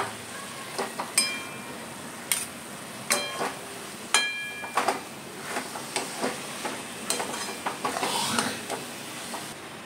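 Saffron syrup and modak filling stir-fried in a pan, a soft sizzle with frequent scraping and clinking of a spatula against the pan, fairly quiet and close.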